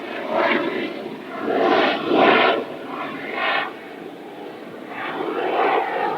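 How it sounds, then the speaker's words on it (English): A low-flying helicopter drones overhead, its low rumbling engine swelling and fading in repeated waves as it passes close by. "That's a really low helicopter, guys."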